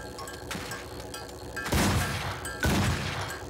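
Gunfire in the video game Highly Likely comes as two loud, sharp bursts a second apart, rising over a quieter background of game sound.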